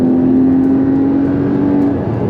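Porsche 981 Cayman GT4 engine pulling steadily under load while driving, a loud close sustained drone with a rising tone and no talk.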